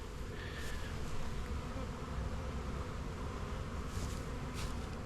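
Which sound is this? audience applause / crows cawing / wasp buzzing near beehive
wasp buzzing near beehive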